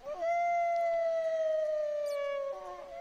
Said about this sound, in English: That's a lot of wolf howling for not having any wolves around here.